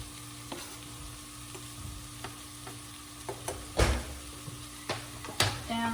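Garlic sizzles quietly in a pan with orange and lemon zest, with occasional scraping stirs and a few sharper clacks of the utensil against the pan.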